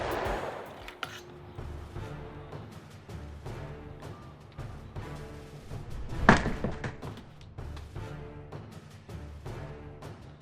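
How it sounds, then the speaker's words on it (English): A sword strikes and destroys a cabbage, landing as one sharp, loud chop midway through over a steady background hum. "So we're just gonna call this a test to see what would happen if we accidentally managed to hit someone with the sword"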